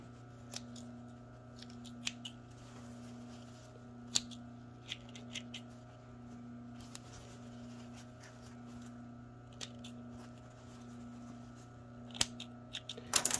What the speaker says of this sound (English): So I'm going to cut them apart.